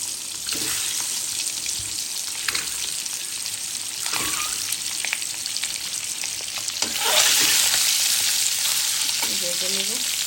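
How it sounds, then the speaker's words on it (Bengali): Eggs frying in hot oil in a wok give a continuous close sizzle with occasional clinks and stirring sounds, and the sizzle swells louder toward the end. "আমরা ডিমটা ভেজে নেব, দিয়ে দিব ডিমটা ভাজার জন্য"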